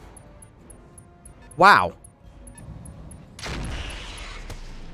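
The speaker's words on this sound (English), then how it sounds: "SRM ammo explosion taking out the Heliopolis." A short exclamation rings out, and moments later an SRM ammunition explosion in the RogueTech mech game destroys the Heliopolis mech, arriving as a sudden, sustained burst of rumbling, crackling noise that lingers at moderate loudness.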